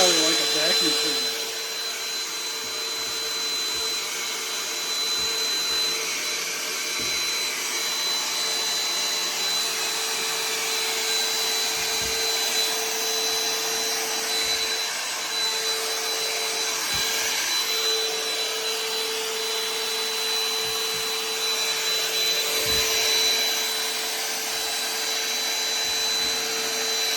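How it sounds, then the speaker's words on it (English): A Ryobi portable vacuum cleaner whines steadily and loudly the whole time while sucking up bees, with a steady high tone and occasional brief thumps, and a little speech under it. "Let's see how they like a vacuum cleaner."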